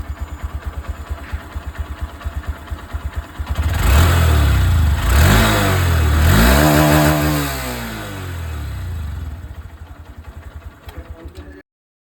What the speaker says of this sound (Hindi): अब मैं आप लोगों को यहाँ पर इसकी जो एग्जॉस्ट साउंड है वो भी एक बार यहाँ पर सुना